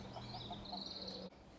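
Farm poultry give faint, soft clucks and chirps near a barn over a steady high hum, and the sound cuts off abruptly near the end.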